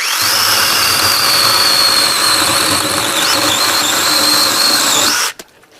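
A Troozy 6-inch cordless electric chainsaw cuts through firewood outdoors at an off-grid cabin, a loud close high-pitched buzzing whine holding steady for about five seconds before cutting off abruptly.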